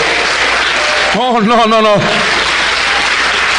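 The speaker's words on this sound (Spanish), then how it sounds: "Dele un aplauso al Señor, alábalo." A church congregation applauds at a Holy Week service, a steady wash of clapping running throughout while a voice briefly speaks over it in the middle.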